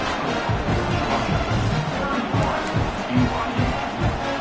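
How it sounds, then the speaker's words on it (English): Stadium crowd at an American football game late in the fourth quarter, a steady, dense roar of many voices filling the space continuously with no single voice standing out. "this crowd now ready to get behind them"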